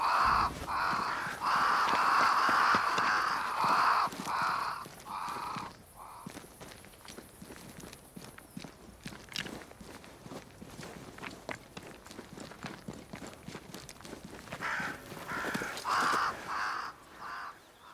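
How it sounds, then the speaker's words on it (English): Several crows caw loudly and repeatedly in the game Banishers: Ghosts of New Eden, first in a dense burst, then fading behind footsteps on the ground before a few more caws return near the end. "Crows. They flock to that great tree up there."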